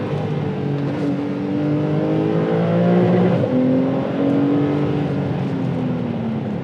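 A Porsche 911 driving and accelerating, its engine note rising steadily through the gears from inside the car, a smooth continuous drone with no talk.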